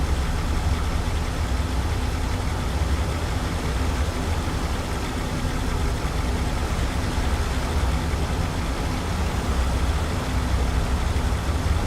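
Road traffic in the city-building game Transport Fever 2, a dense, continuous wash of engine drone and rumble with no pauses, steady and fairly loud throughout.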